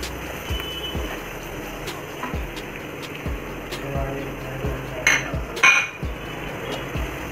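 Carrots are stirred and sautéed in a pan for chicken fried rice, giving a regular run of spatula knocks and clinks against the metal under a low background hiss, with a voice talking over it.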